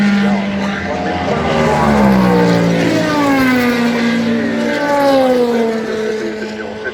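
Race cars at practice for the 2023 24 Hours of Le Mans, loud engines whining and sweeping in pitch as cars pass close by one after another, with a commentator's voice faintly underneath.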